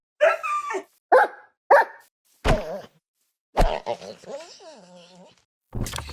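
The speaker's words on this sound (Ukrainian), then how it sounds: "Та сумний варіант вирізняється такими звуками." Sad wolf variant from the Minecraft game, snapshot 25W08A, giving three short whimpering barks followed by low grunts and a long, wavering mournful whine, close and distinct with no talking.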